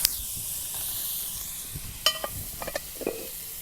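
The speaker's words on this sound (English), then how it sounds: "we'll get this bacon sizzling, get a nice good layer of fat in here" Bacon sizzles in a pot over a campfire, giving a soft, constant hiss with a few faint pops and scraping taps of stirring.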